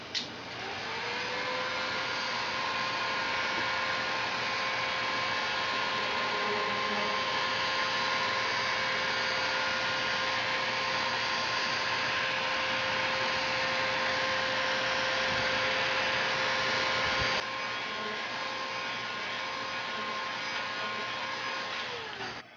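Heat gun blowing hot air over a length of PVC pipe, a steady loud whirring roar with a faint high whine that runs unbroken for about twenty seconds, then cuts off abruptly.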